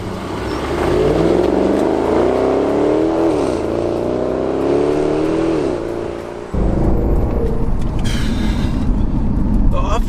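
A fast car drives on the open road, its engine droning loudly and rising in pitch under acceleration, then dropping to a rougher, gravelly roar after a shift, steady throughout with no talking.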